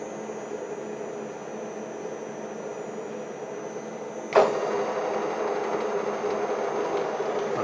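A surface grinder takes a one-thousandth pass off a machined hub, giving a steady, continuous whir with a constant high whine. Partway through, one sharp transient cuts in, and the grinding carries on at a slightly louder level.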